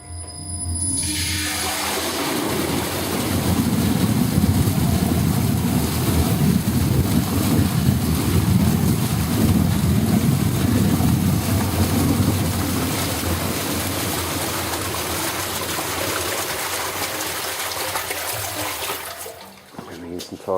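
An Inox Instantiser mixer with a 4-pole motor runs at full speed, 1400 RPM, churning water in a square tank, giving a steady, loud broadband rush and hum that holds for about twenty seconds before dropping away.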